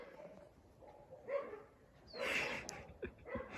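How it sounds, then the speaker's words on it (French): A dog gives a few short barks and yips at close range among quieter sounds, with brief sharp bursts scattered across a low, quiet background. "Le chien content."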